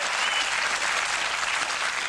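A television comedy show's studio audience applauds in a thick, even wash of clapping that holds steady throughout.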